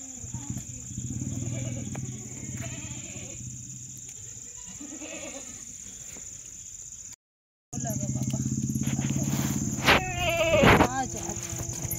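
Goats being brought in for milking bleat repeatedly among crickets and farmyard sounds, with a voice talking nearby; the calls cluster toward the end and come out loud and close after a brief silent gap.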